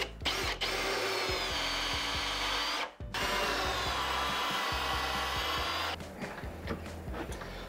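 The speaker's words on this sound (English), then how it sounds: "I can see where I need to put my countersink holes in the back" A power drill bores countersink holes into the back of a wooden headboard during a bench build, whining steadily and fairly close in two long runs, with brief stops and lighter scraping toward the end.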